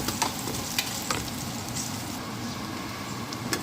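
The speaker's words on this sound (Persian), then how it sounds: "سوسیسام هم که سرخ کردم به موادم اضافه میکنم" Fried sausages sizzle in a pan with other ingredients, a soft, continuous crackle punctuated by a few sharp pops and light scraping clicks of stirring.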